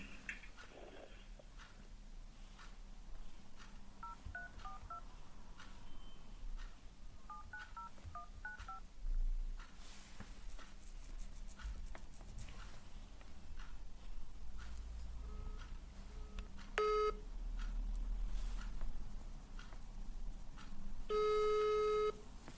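Telephone keypad tones beep in short bursts over a steady low hum, with a couple of longer tonal signals near the end.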